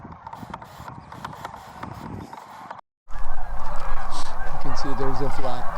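A flock of sandhill cranes gives loud, rolling honking calls as the birds fly off over frosty ground in California, the calls rising suddenly after a brief hush and continuing in repeated overlapping bursts.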